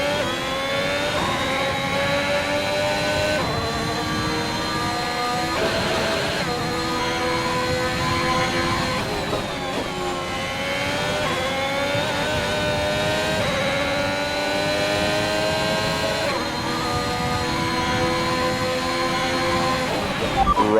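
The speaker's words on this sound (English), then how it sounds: "Remember that you have a lot of torque in these power units, so you should be able to stay in higher gears for a lot of the lap" An F1 car engine in F1 2021, running with a gearbox fault, whines high and steady at full throttle, with the pitch rising and dropping through repeated shifts over about twenty seconds, loud and close with no talk.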